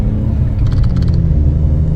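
Jeep fitted with a PowerStop big brake kit accelerating again after hard braking, a loud close low engine rumble with road noise that swells as it picks up speed.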